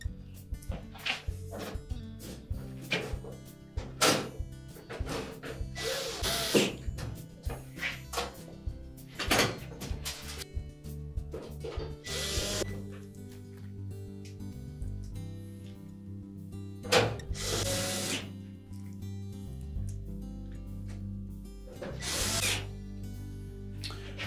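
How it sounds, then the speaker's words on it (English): A power driver sets the retaining screws into the console of a GE range in a series of short whirring bursts, with clicks and knocks between runs, heard close and on its own. "And then we can reinstall the retaining screws."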